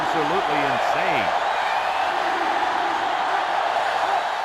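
Crowd roaring in a college football video game during a Texas versus Georgia matchup near the goal line, a loud steady wall of stadium noise throughout with brief commentary-like voice fragments at the start.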